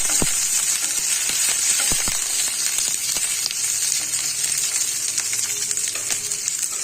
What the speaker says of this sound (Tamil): இதோட ரெண்டு கொத்து கருவேப்பிலையும் இதோட சேர்த்துக்கலாம் இதை நல்லா கிளறி கொடுத்துக்கலாம்